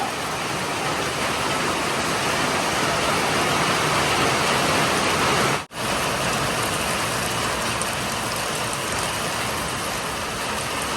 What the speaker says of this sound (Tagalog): ang lakas ng ulan. Ayaw pa pigil si Bagyong Egay.